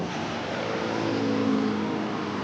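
An angkot minibus approaches on a street with a steady engine drone that swells slightly as it draws near, loud and alone with no talk.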